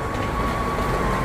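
An underground train arriving at a station in Korea, a continuous, loud rumbling roar with a faint steady whine running through it, with no talking.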